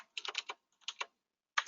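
Computer keyboard typing in three short bursts of quick keystrokes separated by silent pauses, close and fairly quiet.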